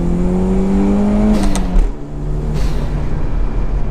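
A Toyota MR2 engine blips and drops in pitch while downshifting, a close, loud revving swell that falls away, then settles into a steady hum.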